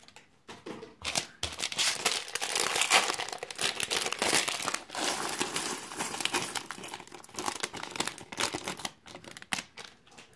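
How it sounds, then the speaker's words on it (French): Small plastic LEGO Marvel Spider Mech vs. Venom parts bags are torn open and crinkled close up, a busy stream of crackling, rustling plastic with sharp snaps and brief pauses, no talking. "Et on va ouvrir aussi les petits sachets en plus."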